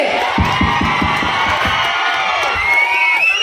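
A live audience at a Kannada folk comedy show, with Sanju Basayya and Muttu Halyal on stage, breaks into loud, continuous applause mixed with cheering and whoops. The noise stays steady and close the whole time.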